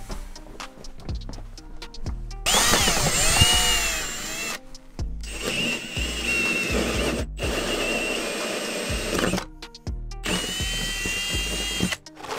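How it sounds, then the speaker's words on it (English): A power drill with a hole saw grinds through the floor of a Ford F53 Class A RV in several long bursts, loud and close, with short pauses between cuts. "We got some hole saws. We're gonna drill some holes."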